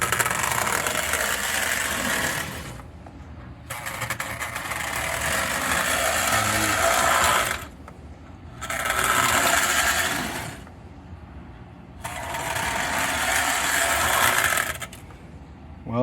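A dry Lionel 239 toy train locomotive motor runs in several bursts, a grumbling, buzzing whir that starts and stops with short quiet gaps between runs.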